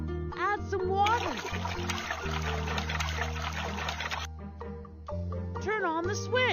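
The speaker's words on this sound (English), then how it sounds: "Add some water." Water pours in a steady splashing stream into a cartoon concrete mixer for about three seconds, surrounded by music and a voice before and after.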